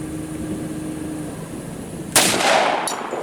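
A single sharp, loud shot from a Glock 10mm pistol loaded with Underwood Extreme Penetrator ammunition cracks out after a steady low background, followed by a brief ringing decay.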